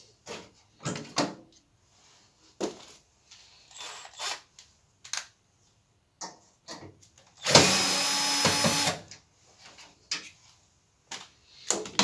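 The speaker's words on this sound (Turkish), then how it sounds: "tornavida yardımıyla cihazın üst tekmenin kısmını kastırarak" Close plastic clunks and scraping of a screwdriver prying off the kick panel of an Arçelik washing machine, scattered knocks over several seconds and then a louder sustained grinding scrape about a second long.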